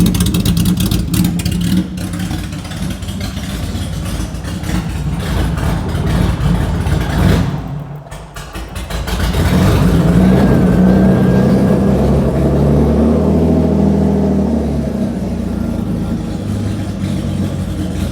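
A BMW Alpina B6 2.8 E30 engine with no exhaust fitted runs loud and raw, idling roughly, dipping briefly, then revving up again and holding a rough, throaty drone.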